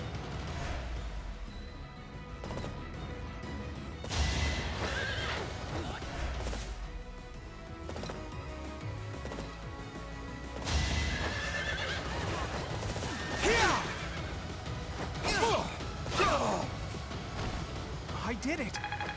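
Several horse whinnies ring out over a busy game soundscape with thuds and crashes, while people talk loudly over the action.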